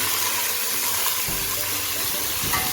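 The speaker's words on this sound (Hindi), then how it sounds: "ये देखिए थोड़ा सा पानी डाला है ताकि ये जलूँ ना" A little water poured into frying masala of green chili and ginger-garlic paste for chicken pulao sets off a loud, continuous hissing sizzle with bursts of spitting steam, close and without talk.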